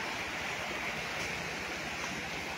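A river flowing right beside a farm lot in Real, Quezon, giving a steady, even rush of water that fills the whole stretch with broadband hiss, constant and moderately close, with no voices over it.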